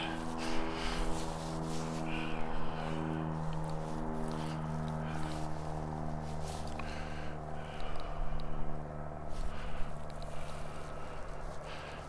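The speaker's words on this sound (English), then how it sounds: "I think that Bombardier is just cranking up the engines there" Bombardier aircraft engines turn over and drone at an airport on a snowy morning, a steady, layered low hum with harmonic tones that swells and wavers, distant and continuous throughout.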